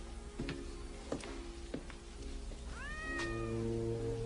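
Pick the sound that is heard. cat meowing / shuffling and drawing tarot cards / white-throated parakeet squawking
cat meowing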